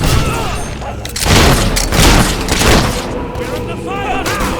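Gunfire and booming blasts in the Fable 3 video game, a loud barrage of shots and thuds in several waves, with voices speaking amid the noise.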